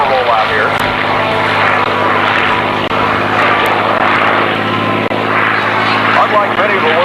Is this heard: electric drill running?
no